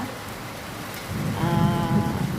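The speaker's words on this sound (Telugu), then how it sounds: "ఫుల్ వర్షం పడుతుంది ఇప్పుడైతే." Heavy rain falls in Vijayawada during a thunderstorm, a dense steady hiss that swells slightly louder partway through, with no voices.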